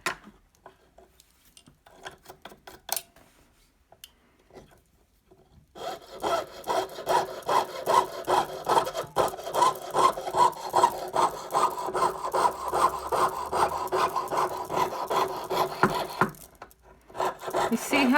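A jeweller's piercing saw cuts through metal in quick, steady back-and-forth strokes, a close rasping rhythm that begins after a few seconds of scattered handling taps and runs on without a break, with no talking.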